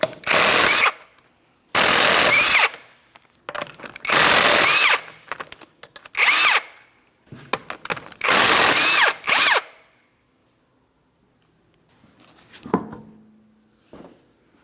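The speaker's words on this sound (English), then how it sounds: "remove all 5 of your 19mm lug nuts and we can get the wheel off of here" An impact tool spins off the five 19mm lug nuts from a front wheel of a 2004-2008 Pontiac Grand Prix, five loud whirring bursts in turn, then a faint metallic clunk and a short knock near the end.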